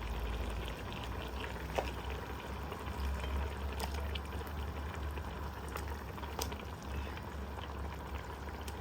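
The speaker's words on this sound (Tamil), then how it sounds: "குழம்பு நல்லா கொதிக்குது" Steady bubbling of fish head curry at a rolling boil in a pot, continuous and close, with a few small clinks and pops; no talking.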